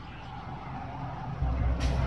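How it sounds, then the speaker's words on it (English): A 1965 Chevrolet Suburban engine idles at a steady low rumble, growing a bit louder and heavier partway through, with no talk. "just sitting here idling, ready for the day"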